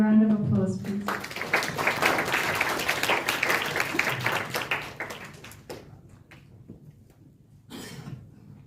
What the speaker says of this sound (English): We can give Heike a round of applause, please